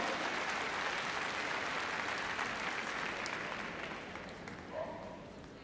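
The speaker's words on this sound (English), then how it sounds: "Give her a round of applause" Audience applause fills the arena at the Crufts heelwork to music competition, a dense, steady roar of clapping that tapers slightly toward the end.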